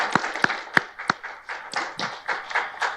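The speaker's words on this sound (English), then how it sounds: "A quick round of applause" A small group claps briefly after a talk before Q&A, a handful of sharp, separate claps, close and fairly loud, with no voices.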